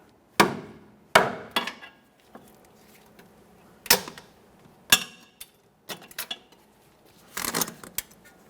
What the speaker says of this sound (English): I'm using a pry bar and a hammer.